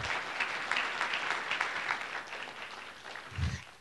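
An audience at a Rare Disease Day conference on clinical gene therapy gives a sustained round of applause, a dense even patter of many hands that thins out near the end.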